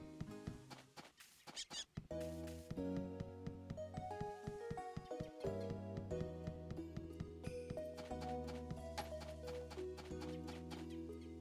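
Steady clip-clop of horse hooves trotting along over a busy, melodic soundtrack in the game Story of Seasons: A Wonderful Life, with the hoofbeats fairly close and continuous.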